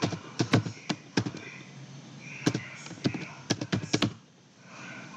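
Password being typed on a computer keyboard, a quick run of sharp key taps in uneven bursts with a brief pause in the middle, close and clear with no talking.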